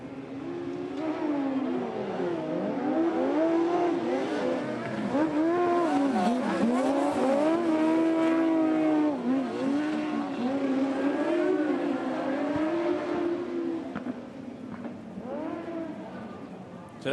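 Speedway motorcycles racing hard around a dirt track, engines loud and close, pitch rising and falling as the bikes sweep through the bends and down the straights, with a commentator talking over the racket.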